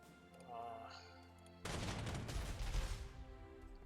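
Tank duel in the Panzer Corps 2 strategy game, a sudden burst of loud gunfire and booming shots erupting after a quiet stretch and rumbling on for a couple of seconds.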